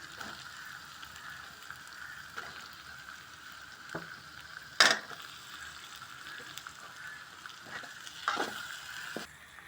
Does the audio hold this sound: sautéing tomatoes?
yes